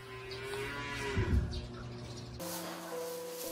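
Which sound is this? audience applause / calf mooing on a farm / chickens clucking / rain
calf mooing on a farm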